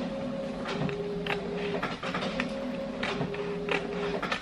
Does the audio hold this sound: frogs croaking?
no